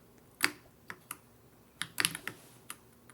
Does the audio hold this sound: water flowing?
no